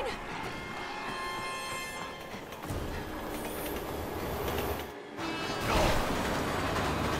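A train in the video game Resident Evil 6 rumbles and rattles loudly, with metallic clanks, a brief dropout near the middle, and a renewed heavy crash of noise afterward.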